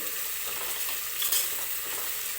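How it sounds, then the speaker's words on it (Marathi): Whole cinnamon, cloves and cardamom sizzle in hot oil for a mutton biryani, a steady close hiss throughout with a brief louder crackle partway through, no voices. "एक दालचिनीचा तुकडा दोन लवंग आणि एक वेलदोडा आहे ते मी टाकणार आहे तेलामध्ये"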